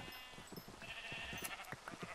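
Sheep bleating in the video game Minecraft, several short bleats repeating at an uneven rhythm over a steady background of game ambience, moderately loud and close, with no talk.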